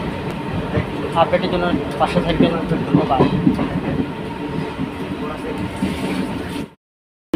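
Inside a moving train on a route through Guwahati, Silchar and Bairabi, with a steady rumble and rhythmic rail clatter under a man's speech before the sound cuts off.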